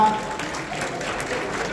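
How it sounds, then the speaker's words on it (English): Audience applause at a charity fundraising dinner fills the room as a steady, dense wash of clapping that holds at an even level throughout, with no single claps standing out. "round of applause for Myra and Momo"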